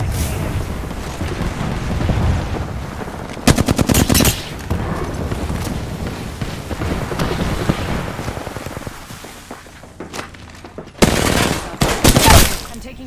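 Rapid automatic gunfire from a shooter game rattles out in dense, loud bursts, with sharp volleys near the middle and again near the end, and quieter gameplay noise between them.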